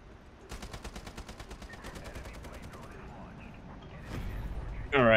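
SCAR-H battle rifle fire in the online shooter Ironsight, a rapid regular burst of roughly a dozen and a half shots over game ambience, then a louder sharp blast at the end.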